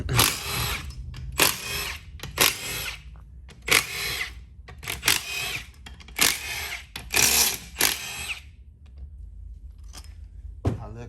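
A power tool driving bolts on a 4L80E transmission, short loud bursts of whirring and ratcheting repeated in quick succession up close, with brief pauses between.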